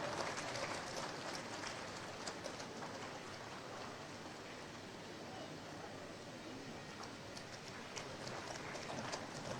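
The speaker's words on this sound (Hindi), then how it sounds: "तालियां आपकी ओर से जरूर हों" Audience at the Jharkhand Legislative Assembly foundation day ceremony claps steadily for an honoured opposition leader, a dense even patter of many hands in a large hall holding a constant moderate level throughout.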